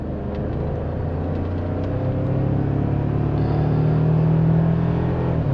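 A 2024 Toyota Tacoma SR5 4x2 pickup with a four-cylinder engine accelerating on the road, heard from inside the cab as a steady low rumble that swells gradually, with no talking.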